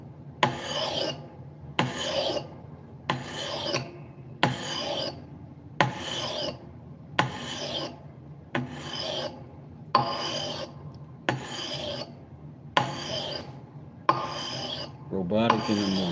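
Rhythmic strokes of 400-grit sandpaper on a wooden bevel, about a dozen even rasping passes at a steady pace, close and clear with short pauses between strokes and no speech.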